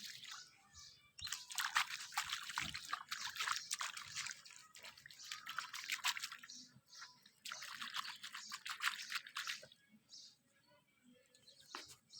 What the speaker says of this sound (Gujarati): અત્યારે થોડુંક આપણે ધોઈ નાખશું પાણી નાખીને।